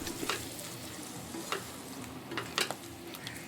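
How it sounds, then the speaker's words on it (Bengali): A paste of ground poppy seed and green chilli, with a little water, is stirred and sautéed in a pan over a medium flame, giving a steady soft sizzle with intermittent scraping strokes of a spoon. "খুব ভালো করে এটা আমি কষিয়ে নেব।"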